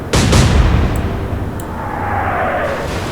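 Naval artillery salvo in the Atlantic Fleet naval combat game: a heavy booming shot at the start, then a long rumbling roar and a faint whistling shell sweep fading out over several seconds.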